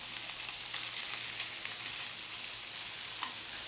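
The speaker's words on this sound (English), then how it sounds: "I just like to get a little bit of a sear on these shrimp" Shrimp sear in a hot pan, a loud, steady, close sizzle with a dense hiss and a few brief crackles, no talking.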